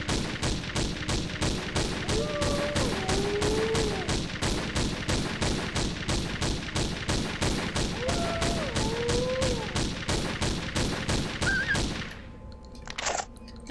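Rapid, evenly spaced gunshots fired at wolves in a Tomb Raider level editor game, a long unbroken string of close shots with faint creature cries in between, ending abruptly in near silence.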